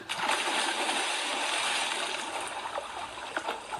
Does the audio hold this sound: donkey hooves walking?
no